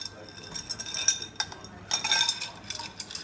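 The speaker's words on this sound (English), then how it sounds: "We're going to add some more ice." Ice cubes clink and rattle into a glass holding a cocktail, giving light scattered chinks and a short clattering burst, close and fairly quiet.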